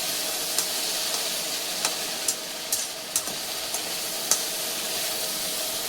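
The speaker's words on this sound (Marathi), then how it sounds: "आता थोडं फुल झालं ना मग छान असं आपण हे भाजी बटाटे छान तेलामध्ये मऊ करून घेऊया" Potatoes for bhaji soften in hot oil, a constant dense sizzle and hiss with occasional sharper pops and stirring taps, close and steady with no talk.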